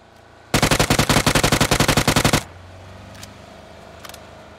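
Rapid automatic gunfire in PUBG on the Erangel map: one close, loud burst of about twenty evenly spaced shots lasting roughly two seconds, followed by quieter ambience and a couple of faint distant clicks.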